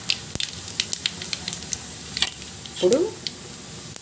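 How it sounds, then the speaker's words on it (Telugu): Mustard seeds and cumin sizzling in hot oil, with sharp scattered popping crackles and a short burst of hissing near the end, fairly faint, with a brief spoken word. "ఆయిల్ బాగా వేడి అవనివ్వండి. ఆవాలు, జీలకర్ర వేసుకోండి."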